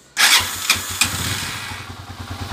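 A Honda TMX155 motorcycle converted to a 175cc engine fires up after repair work, catching with a few sharp bursts, then settling into a steady, close, chugging idle.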